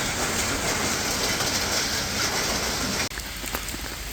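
Steady heavy rain pours at night at Deras Nature Camp near Bhubaneswar, a dense continuous hiss of drops on surfaces with no voices.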